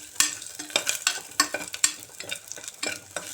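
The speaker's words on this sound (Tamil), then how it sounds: "அதுக்கப்புறம் அறுத்து வச்ச பெரிய வெங்காயம் போட்டு அது நல்லா வதங்கிட்டு கொஞ்சம் சிவப்பாகணும்." Sliced large onions fry in hot oil in a pan with cinnamon and cloves, giving a steady close sizzle broken by repeated sharp scraping stirs about every half second.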